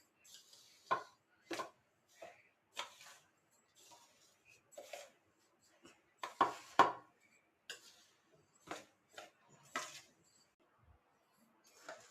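Flaxseeds and sesame seeds are stirred together in a pan, making scattered, sharp scraping and tapping strokes at an irregular pace, quiet and close with silence between.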